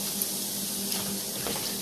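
Nigerian chin-chin dough frying in hot oil, a steady, close hiss and crackle of sizzling that holds at an even level throughout without pause.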